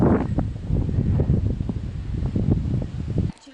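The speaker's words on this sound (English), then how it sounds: "Windy, sorry about the wind." Strong wind buffets the microphone on a mountain trail, a steady loud low roar with gusts rising and falling, cutting off abruptly near the end.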